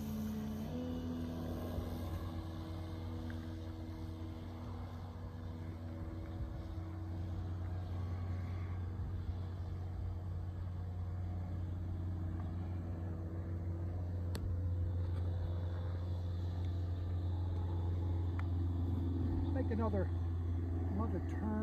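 Hanger 9 Tiger Moth RC model biplane flying over a runway, a continuous droning engine hum heard from a distance throughout, with people talking over it.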